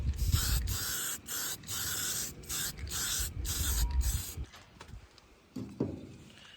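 Primer sprays from an aerosol can onto the grill of a Toyota Land Cruiser being coated with a Herculiner bed-liner alternative in a series of short hissing bursts with brief gaps, then trailing off into quieter handling noises.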